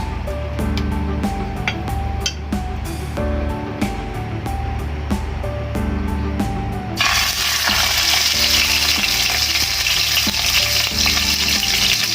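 Oil fries in a pan at controlled heat, crackling with sharp spits and pops, then the lid goes on and a louder, denser hiss of sizzling takes over, close-up and with no talking.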